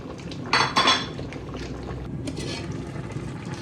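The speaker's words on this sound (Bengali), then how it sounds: "এবার ভাজা ইলিশগুলো দিয়ে দিলাম।" Fried hilsa pieces added to a cooking pot with bottle gourd, with a couple of sharp metallic clinks and scrapes from a utensil against the pot over a low background hiss.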